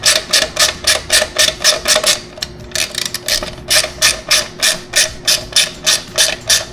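Close, loud ratchet clicking tightens a carbon fiber piece in steady, repeated bursts of rapid clicks, each stroke separated by a short pause, with no talking.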